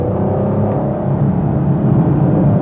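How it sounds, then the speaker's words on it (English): A 2021 Chevrolet Camaro LT1 V8 engine rumbling and revving from inside the car, a steady loud drone with slight rises in pitch; distinct exhaust pops are not clearly picked out. "engine just sounds great, and it builds up its revs very quickly and produces a healthy amount of power."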